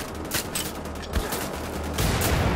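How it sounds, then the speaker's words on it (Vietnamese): Gunfire in the shooter game Wolfenstein: The Old Blood: loud bursts of rapid shots crackle in quick succession, close and dense, with no talking. "Từ từ mình lấy cây súng rồi mình bắn thôi coi."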